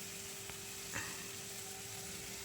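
Spice masala being fried and stirred in a pan before paneer is added, a faint, steady low sizzle with a couple of small clicks, no speech over it.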